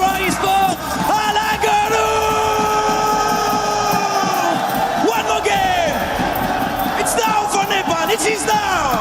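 Roaring crowd at an esports watch party for a PUBG Mobile world championship, a loud sustained wall of yells and whoops with surges and bursts throughout, sharp shouts and sirens cutting through the noise.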